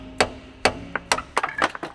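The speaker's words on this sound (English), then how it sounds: "The big hammer approach" A big hammer strikes metal on a seized V12 engine during a Jaguar restoration, giving several sharp, close impacts in uneven rhythm, some quickly repeated, with no talking.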